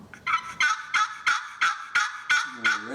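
A vintage turkey call played on its raspier side gives seven evenly spaced raspy yelps in a quick steady rhythm, close and clear, then a short lower rolling note at the end.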